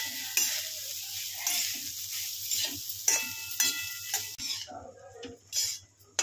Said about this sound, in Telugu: ఇప్పుడు దీన్ని బాగా కలుపుకోవాలి